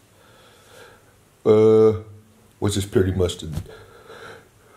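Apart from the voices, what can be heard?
tired person yawning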